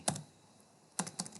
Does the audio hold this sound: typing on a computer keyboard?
yes